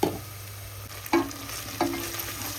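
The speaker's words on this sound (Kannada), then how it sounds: "ಬೆಳ್ಳುಳ್ಳಿ ಪೇಸ್ಟ್ ಹಾಕಿದ ಮೇಲೆ ಇದನ್ನು ಈ ಥರ ಎಣ್ಣೆ ಒಳಗೆ ಚಲೋ ಚೆನ್ನಾಗಿ ಮಿಕ್ಸ್ ಮಾಡ್ಕೊಬೇಕು" Garlic paste stirred and fried in hot oil in a home kitchen pan, a steady sizzle with three distinct scraping stirs spaced about a second apart, close and moderately loud.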